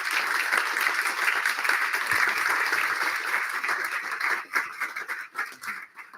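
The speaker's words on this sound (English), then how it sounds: "I wonder if we might have a round of applause for our panellists to begin with." An audience in a pub gives a steady round of applause for a panel, a dense wash of many hands clapping that thins out and fades toward the end.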